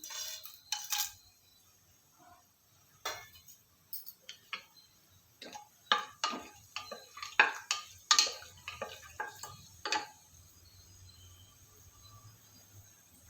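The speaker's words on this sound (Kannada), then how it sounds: "ಎಣ್ಣೆ ಕಾಯಿದ ಮೇಲೆ ಮಸಾಲೆ ಸಾಮಾನುಗಳನ್ನೆಲ್ಲ ಹಾಕ್ತಾಯಿದ್ದೀನಿ" Whole spices dropped into hot oil in a pan while cooking a tomato rice dish with field beans, giving a run of sharp crackles and ticks, some close and distinct, others clustered, over a quiet background.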